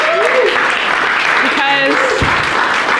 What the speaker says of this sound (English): have a round of applause for Matt for having us all here today